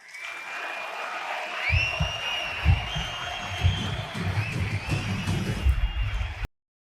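An audience at a talk on housing costs in Spain bursts into applause after a short pause, a dense clapping crowd that swells and holds loudly before cutting off abruptly.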